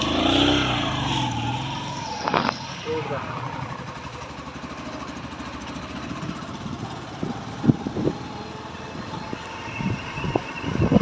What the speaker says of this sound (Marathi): आता बाबांनी गाडी चालू केली आहे.